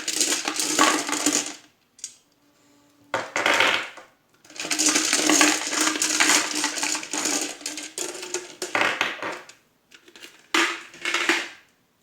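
Small stones for a reading shaken and cast together, making bursts of clattering, clinking rattles separated by short silences, close and fairly loud with no voice.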